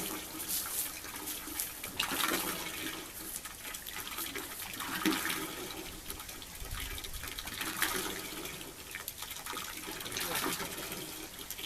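Water gushes from a hand pump on a well in steady surges that rise and fall with the pumping strokes, continuous and fairly close throughout.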